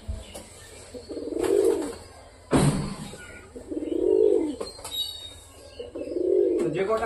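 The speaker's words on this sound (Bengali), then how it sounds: "আসো নতুন পায়রা, চলে আসো, ঘরে ঢুকতে হবে।" Pigeons, newly brought home, coo in three soft, rounded bursts with a brief sharp noise between them and faint chirps throughout.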